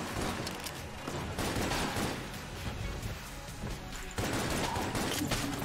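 Cannon Balrog spraying bullets in Enter the Gungeon, a dense, continuous barrage of rapid gunfire and crashing impacts with an abrupt jump in intensity near the end.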